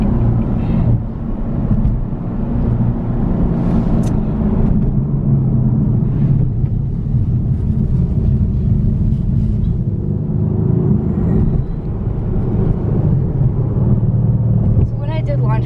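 A 2017 Mercedes-Benz AMG C63s coupe engine drones and rumbles steadily from inside the cabin while driving in manual mode, with a deep continuous tone and slight shifts, under someone talking.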